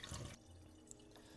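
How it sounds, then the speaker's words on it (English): Rinse water is dumped from a container into a kitchen sink in one short splashing pour, followed by faint trickles and a drip as it drains. "I'm going right on over to the sink where I will dump out this water"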